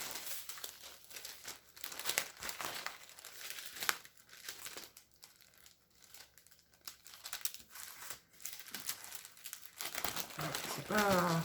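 A sheet of paper is handled and smoothed back into place, giving scattered crinkling and rustling close by with short crisp bursts and no speech.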